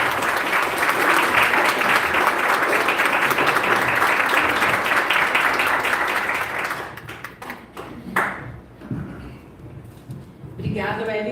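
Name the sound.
audience applause welcoming a speaker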